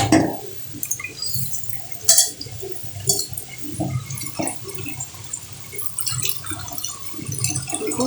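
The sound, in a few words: water washing tomatoes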